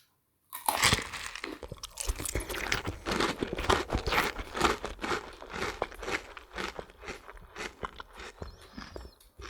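Raw garden egg (anyara) is chewed close to the mic, a steady run of loud crisp crunches and wet bites that keeps going for several seconds with no talk over it.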